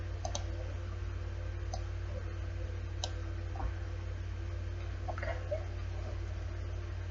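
A computer mouse gives a few faint, sparse clicks over a quiet background hum while someone works in embroidery design software.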